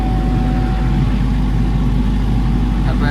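A Denyo 30 diesel generator set runs under test load, giving a steady, loud, continuous low engine drone with a constant hum throughout and no breaks.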